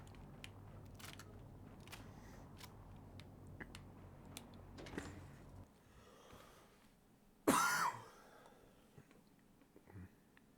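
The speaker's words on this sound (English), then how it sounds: "I think I have to cough." One sharp cough breaks a quiet background, preceded by faint rustling and small clicks.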